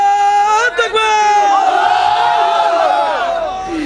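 A crowd at a Bangla religious sermon shouts a takbir in unison, a loud, sustained massed roar of many voices. It swells and holds for several seconds, close and reverberant.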